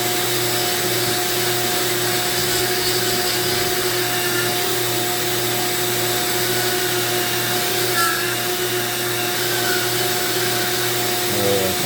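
A Dremel 4300 rotary tool spinning at about 20,000 RPM carves manzanita wood with a loud, continuous high-pitched whine that holds steady throughout.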